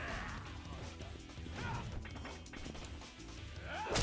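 Hammer blows and crashing impacts in a Yakuza 4 brawl, a dense stream of loud smashes and thwacks with whooshes, continuous over busy game noise.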